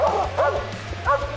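Hunting dogs on a bear hunt bark outdoors in three loud, close bursts of yelping barks over a low steady background hum.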